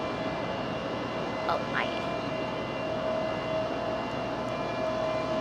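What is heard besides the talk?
Frontier airliner departing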